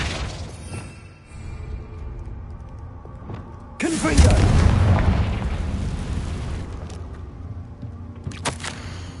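A Confringo fire spell detonates in the Hogwarts Legacy video game, a sudden loud booming blast that rumbles and decays over a few seconds, followed by a fainter later pop amid game ambience.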